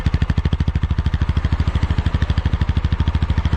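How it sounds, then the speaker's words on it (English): A TVS Apache RTR 160 4V motorcycle engine idles at low RPM, giving a fast, even thump from close by. The pulses repeat steadily and sound alone, with no talk. "you will always feel the sweet thump when the RPM is very low"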